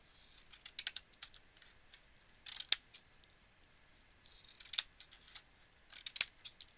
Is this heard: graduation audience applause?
no